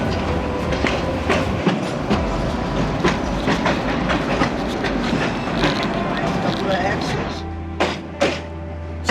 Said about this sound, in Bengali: বুড়িগঙ্গা ব্রিজে যখন ট্রেনটা উঠে, তখন সেই এলিভেটেড রেলওয়ে